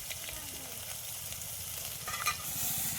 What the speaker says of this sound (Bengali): এবার তেলের উপরে আমি পেঁয়াজ বাটাটা দিয়ে নেব